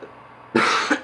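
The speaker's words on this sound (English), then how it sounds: "Again, still have a cough." A single harsh cough bursts out after a quiet moment, close and fairly loud, trailing off with a short second catch.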